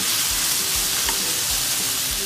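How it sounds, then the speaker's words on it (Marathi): Capsicum sizzles steadily in a hot pan for prawn chilli, with soft rhythmic scrapes of stirring running through the constant frying hiss. "शिमला मिरची मस्त परतून झालेली आहे"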